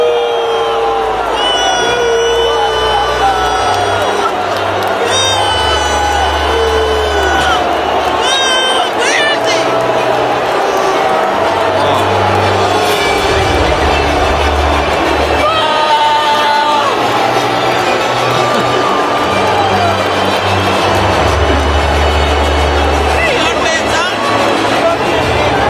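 Stadium crowd at an NFL game booing Trump, recorded by a spectator in the stands: a dense, loud, sustained roar of many voices with swelling shouts and jeers that never lets up.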